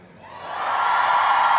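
Premiere crowd rising into loud, sustained cheering and whooping, building over the first second and holding steady as a dense wall of voices.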